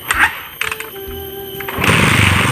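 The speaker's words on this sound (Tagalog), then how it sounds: "Wanda lagi yung motor mo." A motorcycle engine catches and runs, close and loud, with a rough, rapid mechanical clatter after a few short bursts, then a fuller buzzing roar toward the end.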